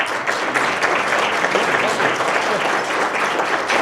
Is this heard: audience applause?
yes